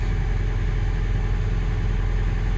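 A heavy excavator engine runs steadily nearby, a constant low rumbling drone with no variation.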